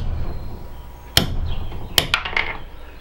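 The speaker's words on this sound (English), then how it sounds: "we're just going to pound it out because this one wants to be stubborn." A hammer strikes a stubborn screw, pounding it out of a tripod plate clamped in a metal vise: one sharp blow, then a second followed by a quick cluster of lighter knocks, loud and close with no talk.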